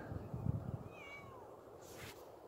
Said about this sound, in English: And that cat is driving me nuts.